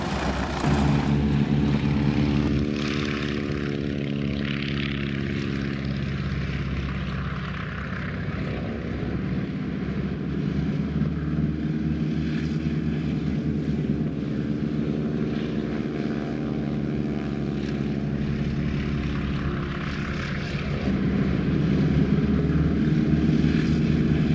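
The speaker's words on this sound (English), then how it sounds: "A taxi for a mass takeoff." WWII-era propeller training airplanes taxi together for a mass takeoff, their engines blending into a loud, steady droning hum that holds unbroken throughout, with a sustained whine joining in after the opening seconds.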